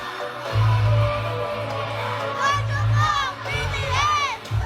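A party crowd at a birthday celebration cheers and screams loudly, with excited shouts and whoops rising and falling over a steady backdrop of music.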